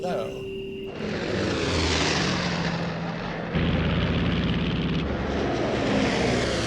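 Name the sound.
WWII bomber aircraft taking off, propeller engines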